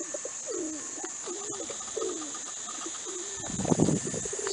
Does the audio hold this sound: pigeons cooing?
yes